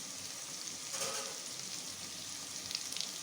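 Curry leaves sauté in hot oil for soya biryani, a steady moderate sizzle and crackle with a brief louder burst and a few small pops near the end, no voices.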